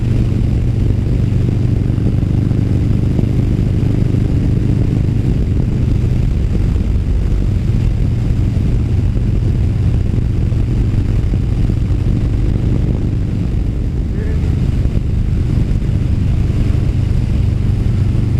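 A cruiser motorcycle being ridden gives a steady, loud low engine drone with rumbling wind noise, continuous throughout and close by, with no talking.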